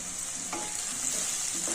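Asafoetida tossed into a hot tempering of oil and spices with curd and turmeric, giving a steady close sizzle with light scraping stir strokes throughout.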